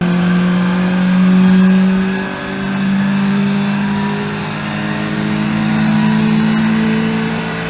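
A Honda Civic EJ9 engine hums and revs close by through its exhaust, its drone rising and falling in pitch over several seconds with a throaty exhaust tone and no speech.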